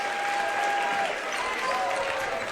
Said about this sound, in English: it's a round of applause for the state's best player